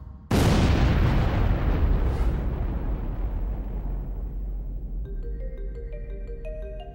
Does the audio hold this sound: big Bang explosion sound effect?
yes